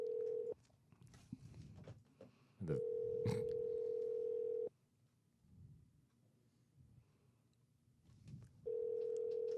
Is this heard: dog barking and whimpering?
no